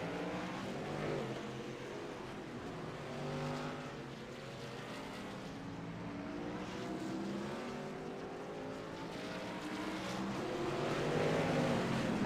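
Racing trucks in a NORA Truck Series race roar steadily around the track, a continuous layered engine drone with several vehicles close together, swelling louder toward the end.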